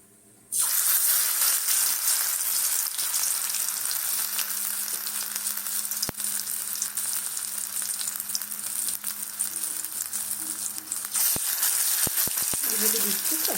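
Poppy seed and pea fritters dropped into hot mustard oil, a loud close sizzle starting abruptly and holding steady, with a few sharp clicks of a utensil near the end.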